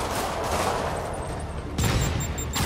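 Rockets fire and burst in Spider-Man on PS4, a dense rumbling barrage with a sharper, louder blast landing near the end.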